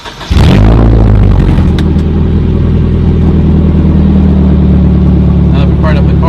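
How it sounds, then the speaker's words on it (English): A Nissan 240SX S13 engine cranks briefly and fires up, then settles into a loud, steady idle rumble that continues close by. "now that we fired up the car"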